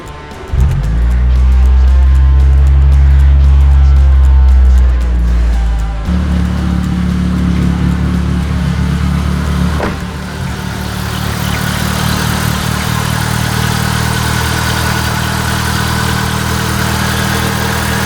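A Mitsubishi Lancer engine with a replaced catalytic converter cranks over and fires up, then settles into a steady, loud idle that holds for the rest of the stretch.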